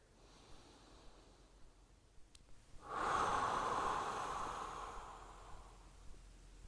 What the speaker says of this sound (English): 3 breaths here